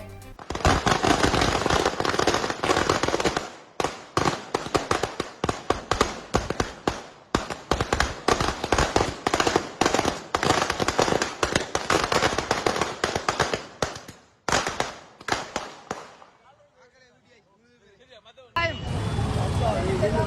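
Rapid crackling bursts of firecrackers going off in dense, loud volleys at a political party supporters' celebration in Sri Lanka, with a brief lull near the end before another loud burst.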